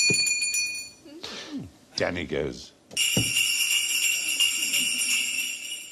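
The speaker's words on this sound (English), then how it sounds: "jingle your bells, please." Hand bells jingle briefly, a voice speaks a few words, then a bright, sustained ringing of bells fills the rest, loud and close.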